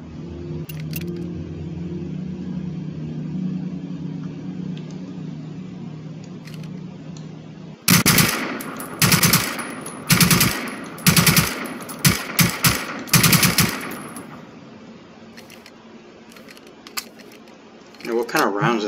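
A submachine gun in the Generation Zero video game rattles off several loud, close bursts of rapid fire over a steady background hum, with short gaps between bursts.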